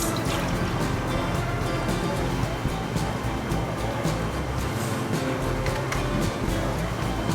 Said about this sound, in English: then I'm gonna add the milk